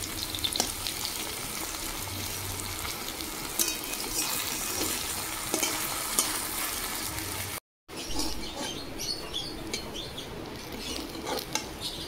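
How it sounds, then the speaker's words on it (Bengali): Fritters of red lentil paste and ash gourd leaves shallow-frying in a little oil, a steady close sizzle with occasional crackles and light utensil clinks, briefly cut off near the middle. "খুব বেশি কিন্তু আমি তেল দিইনি, কম তেলে এটা ভাজছি।"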